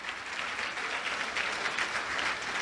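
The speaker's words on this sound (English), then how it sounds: "Can I have a round of applause for Canada?" A live audience gives a steady round of applause, a continuous wash of many hands clapping at moderate distance, fairly quiet and without talk.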